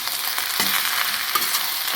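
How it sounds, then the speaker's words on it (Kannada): Okra sizzles steadily in a hot pan, frying until golden brown, with scraping stirring strokes over a continuous close, loud crackle; no talking. "ಒಂದು ಗೋಲ್ಡನ್ ಬ್ರೌನ್ ಬರೋ ತನಕ ಫ್ರೈ ಮಾಡಬೇಕು ನೀಟಾಗಿ"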